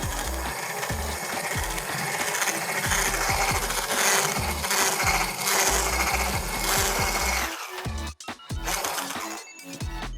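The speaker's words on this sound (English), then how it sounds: "I have this lovely mixer. It actually is an immerger. So it has the immerger attachment and then also has a whisk attachment." An immersion mixer with a whisk attachment runs loud and close, mixing cinnamon roll cake batter inside an RV, a steady rattling mechanical whir that stops abruptly near the end before starting again.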